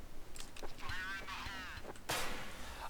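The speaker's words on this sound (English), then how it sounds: "smoke grenade" Smoke grenade in Counter-Strike: Source, a sharp pop followed by a rising, wavering hiss of gas and a second loud burst near the end, heard up close with no talk.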